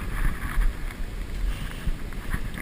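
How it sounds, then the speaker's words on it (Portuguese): Strong wind buffets an open outdoor spot during a kite-flying duel, a steady loud rushing roar with gusty surges throughout and no one talking. "O vento aqui tá forte, tá muito forte."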